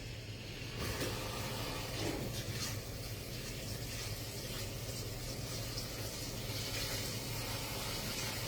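Water from a tap gushes steadily into a bowl to cool freshly cooked food in a colander, a constant loud splashing stream lasting throughout.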